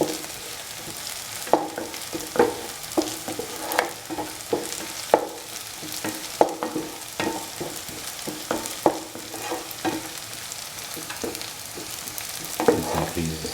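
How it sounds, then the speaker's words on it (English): Shallots sizzle in hot oil in a pan for a chickpea stir fry while a spoon scrapes and stirs them at an uneven pace, steady frying hiss with sharp clicks of the utensil against the pan. "Making the shallots golden brown as for caramelization."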